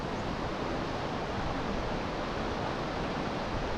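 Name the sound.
small waterfall water flowing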